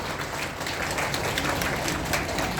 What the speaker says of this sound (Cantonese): 我哋一齊用熱烈嘅掌聲祝福一對新人